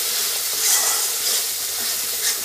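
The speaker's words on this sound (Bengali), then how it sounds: "মশলাটা একটু কষিয়ে নেব।" Spice masala for a Bengali banana flower curry fries in hot oil in a pan, giving a steady bright sizzle with soft stirring swells, close and continuous.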